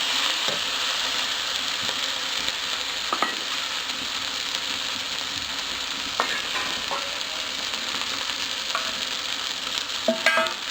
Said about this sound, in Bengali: এরপর আমি মশলাটা একটু কষিয়ে নেবো, তারপরে আমি মাংসগুলো দেবো।